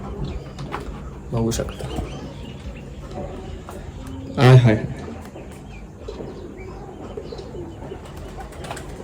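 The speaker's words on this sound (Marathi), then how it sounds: "फुल पक्ष्यांचे आवाज वगैरे" Pigeons coo in the morning near potted plants, two short, soft cooing calls rising out of quiet background, the second louder and closer, while someone talks briefly.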